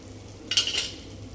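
A spoon scrapes and stirs stuffed eggplant with masala in a pan, a short burst of metallic scraping rising out of quiet kitchen background, close and alone.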